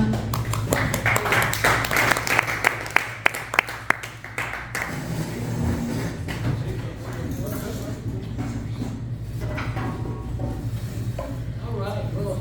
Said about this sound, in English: give him a round of applause and a warm welcome